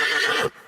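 A horse neighs loudly and close in one short, strained whinny that cuts off abruptly. A brief fainter sound follows it.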